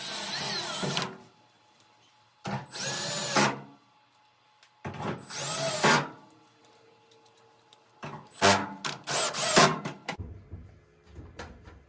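A power drill driving four screws into an LG dryer during heater assembly replacement, each one a separate loud whirring burst with quiet gaps between them.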